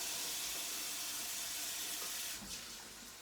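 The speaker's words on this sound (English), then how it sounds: "I'm just going to fill up that can with water and pop that in as well." Tap water running steadily into a can, then poured into a pot of vegan lentil chilli; a constant close, hissing gush that softens and tapers toward the end.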